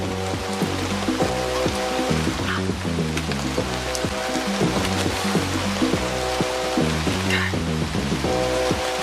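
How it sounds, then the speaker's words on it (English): Steady rain falling in a forest, a dense continuous patter with constant hiss and scattered drops, alone with no talk, heard under a swelling low musical score. "the rain is even falling"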